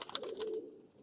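A single Ajan breed pigeon gives one short, soft, throaty coo, close by and alone.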